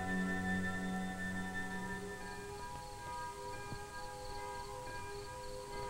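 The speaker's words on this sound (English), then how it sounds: "the curfew bell tolled its warning" A curfew bell tolls at nightfall over hills in 1950s China, its tones heard faint and distant beneath a steady layer of background noise and hum.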